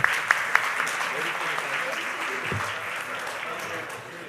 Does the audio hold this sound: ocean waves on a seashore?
no